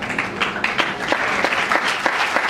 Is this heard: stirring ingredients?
no